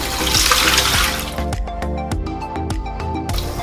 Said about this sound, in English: refill the water up to the top, covering the meat